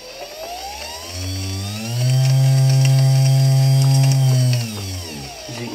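An 18-volt cordless battery drill drives a cheap reduction gearbox, its motor whine spinning up, holding a loud steady pitch for a few seconds, then winding down, with gears grinding and clicking.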